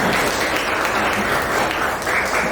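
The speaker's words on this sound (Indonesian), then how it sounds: "sekali lagi tepuk tangan semuanya" A dense wash of audience applause fills a room after a classroom presentation, loud and steady throughout with no breaks.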